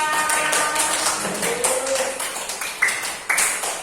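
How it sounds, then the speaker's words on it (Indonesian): A group of students applauds in a classroom-style school session, producing a sustained patter of overlapping claps with a few louder, sharper individual claps standing out near the end. "Tepuk tangan buat kalian."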